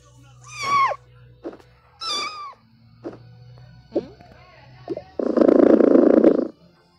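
A cat meows loudly twice up close, followed by several short softer chirps and mews, then a burst of rough hissing or growling noise near the end, with no speech.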